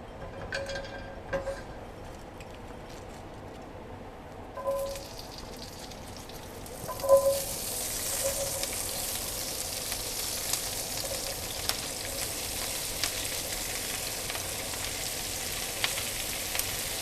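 Quartered Brussels sprouts sizzling in a hot pan, a few scattered pops at first, then a steady hissing, crackling sizzle that swells and keeps going, close and even, with no talking.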